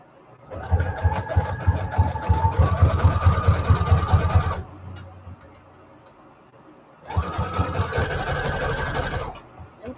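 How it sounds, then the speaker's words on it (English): A sewing machine zigzag-stitching fabric flowers together with brown thread, two loud close runs of fast steady motor whirring and needle clatter separated by a quiet pause. "So let's sew them together."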